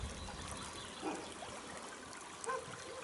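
A small forest stream trickles softly under an old stone bridge site, a faint steady burble with a couple of slightly brighter splashy moments and no voices.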